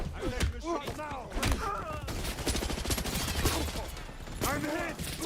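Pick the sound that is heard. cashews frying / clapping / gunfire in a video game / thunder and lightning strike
gunfire in a video game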